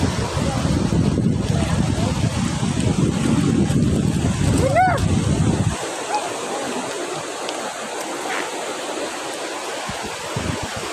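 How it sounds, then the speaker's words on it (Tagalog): Large sea waves and a strong current wash along the shore at Punta Maria with heavy wind buffeting the microphone, a loud roar that drops abruptly to softer surf partway through. "May mga malalaki yung alon, tapos malakas ang agos ng tubig ha"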